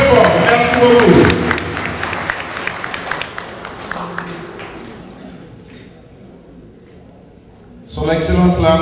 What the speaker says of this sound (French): que je voudrais qu'on applaudisse très fort